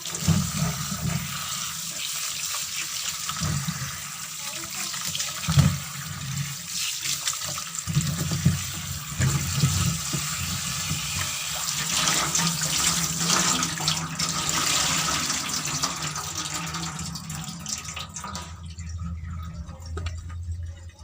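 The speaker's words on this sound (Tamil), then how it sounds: "இப்போ இந்த பனானா எல்லாத்தையுமே வந்து வாஷ் பண்ணியாச்சு" Water runs from a kitchen tap as peeled bananas are rinsed, a continuous splashing flow with small clatters and drips, steady for most of the stretch before cutting off near the end.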